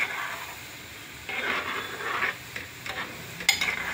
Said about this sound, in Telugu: ఇవన్నీ డార్క్ బ్రౌన్ వరకు వచ్చే వరకు ఇలాగే కాల్చుకోవాలి.